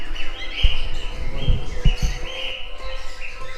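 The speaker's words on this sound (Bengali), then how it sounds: "পাখির আওয়াজগুলো খুব সুন্দর" Busy chorus of bright bird chirps and tweets in a zoo aviary, several birds calling over one another at close range, with a few low thumps underneath.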